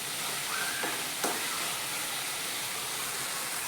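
Masala sizzles and crackles steadily in hot oil while being stirred for a sprouted moong curry, a continuous close frying hiss with a few brief scraping sounds and no talk.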